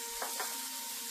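Tomatoes fry in a pan for shakshuka, a steady bright sizzle with a couple of soft stirring scrapes near the start.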